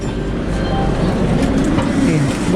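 A train rumbles steadily through a busy Mumbai railway station, a low continuous roar with faint rail clatter and background voices of people boarding.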